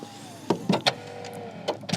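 An Audi RS 6 Avant's powered tailgate closes with a faint motor whine and a short series of sharp clunks and latch clicks, close by and quiet between them.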